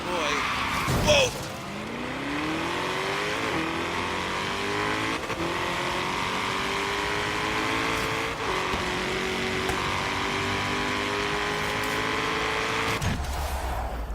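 An all-wheel-drive car races in Forza Horizon 3, its engine droning steadily and rising in pitch as it accelerates, with tires squealing and skidding; a sharp knock at the start, and a voice speaks briefly.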